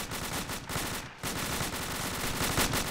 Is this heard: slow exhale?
no